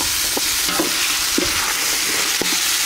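Tomato fries in chicken gravy in a pan while being stirred, a loud close sizzle with repeated scraping and knocking strokes of the spoon at an uneven rhythm.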